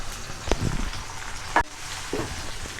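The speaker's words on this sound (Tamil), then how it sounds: "பூண்டு வெங்காயம் நல்லா வதங்கிடுச்சு." Garlic and shallots sauté in hot oil with a steady close crackle, punctuated by a couple of louder spoon knocks and scrapes against the pan.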